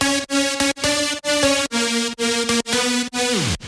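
Layered detuned wavetable synth with 16 voices and multiband compression plays a rhythmic chopped melody in a dance-pop style, short bright stabs with sharp gaps ending on a downward pitch glide, loud and alone.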